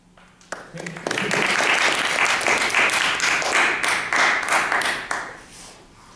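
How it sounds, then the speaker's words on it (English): A crowd breaks into clapping after a short quiet start, swelling into dense steady applause that holds for several seconds before tapering off near the end. "Clapping."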